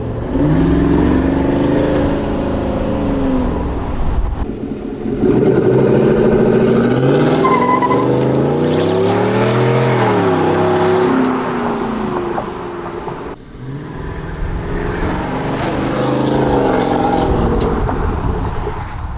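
A Chevrolet Silverado 5.3-liter V8 with a Corsa sport exhaust rumbles loudly and deeply, revving repeatedly, pitch climbing and falling in several long pulls with brief drops between them, heard close up.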